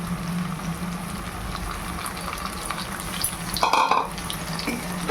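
Mutton frying with a paste of cumin, coriander, ginger, garlic, chilli and tomato in a pan: a continuous close sizzle with stirring, rising into a brief clatter of the spoon against the pan near the end.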